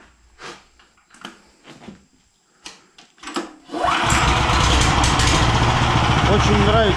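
After a few short voiced bursts, a car engine in a garage turns over and catches, then settles into a loud, steady idle that runs to the end.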